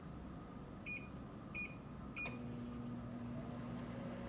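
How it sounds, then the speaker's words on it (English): Microwave oven humming steadily at low level, with three short electronic beeps near the start followed by a slightly louder click as it switches on and begins running with a faint tonal drone. "bring it over here to the microwave and microwave this for 30 seconds."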